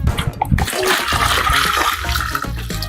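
Fish water is poured from a container into a moi moi mixture, giving a steady, loud liquid gush and splash with no talk over it.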